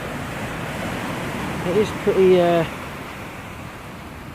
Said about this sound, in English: Watching them waves come in.